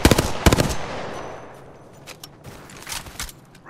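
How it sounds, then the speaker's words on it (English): Rapid gunfire from an enemy squad in Apex Legends, with loud close bursts at the start, then quieter scattered shots and more bursts trailing off, no voices. "A second squad is firing at us."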